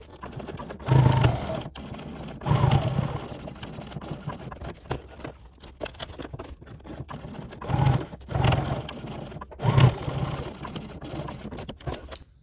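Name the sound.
sewing machine stitching pouch seams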